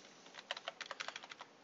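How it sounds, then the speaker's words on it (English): Keys on a computer keyboard are tapped in a quick burst while a file name is typed, a dozen or so light clicks close by and quiet. "I could type in a file name here."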